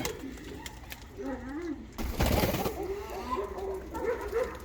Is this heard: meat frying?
no